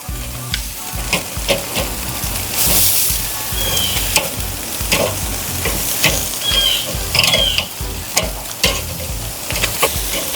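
Jerk pork seasoned with Jamaican jerk seasoning sizzles steadily as it browns over the coals of a Weber kettle grill, with a continuous frying crackle and occasional scrapes of stirring or flipping close by.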